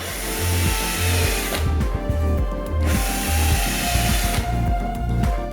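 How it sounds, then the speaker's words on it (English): A power drill whirs steadily as it bores holes along the sides of a metal door profile, with a pause midway before the motor revs up again, loud and close. "only drill the holes along the sides, not in the center of the profile"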